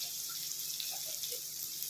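Hot water pours steadily into a pan while masala upma is being made, a continuous hissing rush that stays even from start to finish, fairly quiet and alone.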